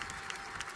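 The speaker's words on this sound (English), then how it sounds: "Join me in a round of applause for Dr. Francisco Rodriguez." An audience at a 2017 commencement ceremony applauds, a short, faint, steady patter of many hands clapping.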